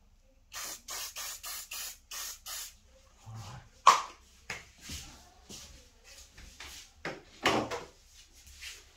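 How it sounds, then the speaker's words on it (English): An aerosol spray can is used on artwork, producing six short, evenly spaced hissing bursts up close, followed by scattered handling knocks and a few longer, fainter sprays. "All right, I'll spray it."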